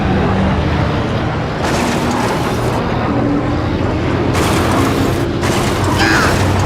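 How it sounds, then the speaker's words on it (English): Podracer engines in the Star Wars Episode 1 Racer video game produce a loud, continuous roaring whoosh that surges and dips repeatedly as the craft races along, with one engine lost partway through. "It's cool that the sound of the engines is different."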